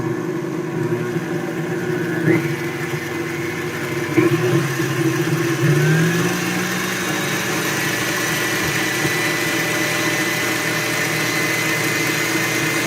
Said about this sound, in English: let's see how it handles the KitchenAid on high